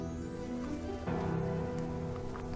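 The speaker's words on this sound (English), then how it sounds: "It's raining, that's great." Steady rain falling in a video game, a continuous close hiss of drops that swells slightly partway through, heard alone without talk.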